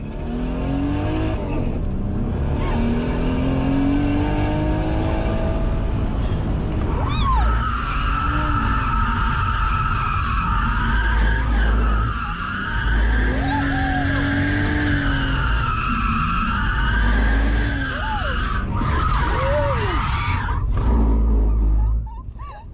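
A drift taxi car skidding and spinning its tires in long sustained squeals over a roaring, revving engine, loud and continuous from up close for over twenty seconds, with occasional shouts from passengers inside.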